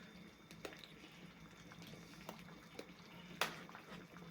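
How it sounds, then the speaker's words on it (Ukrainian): Faint, quiet bubbling of a pot of green sorrel borscht at a boil, with scattered soft pops and one sharper crackle. "борщик кипить"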